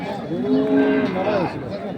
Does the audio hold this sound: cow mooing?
yes